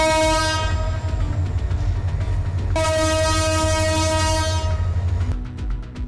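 A train rolls past during the Eid holiday travel rush, its loud horn blaring in long sustained blasts over a heavy rumble of wheels and carriages, close by.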